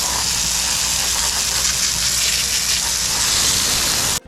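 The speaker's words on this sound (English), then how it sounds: "So we just got the pressure washer out, and right away it's blasting this rust away." High-pressure water spray blasts rust off the engine of a BMW E30 325i convertible, a loud, steady hiss and gush of water running continuously close by, cutting off abruptly at the end.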